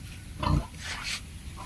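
Pregnant pig on a backyard piggery farm giving a couple of low, short grunts, close by, over a steady background hum.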